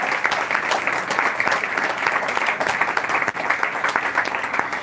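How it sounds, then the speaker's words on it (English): A graduation audience gives sustained, dense applause for the principal, loud and close, a steady wash of many hands clapping with no break for nearly five seconds. "I want you to give your principal a round of applause"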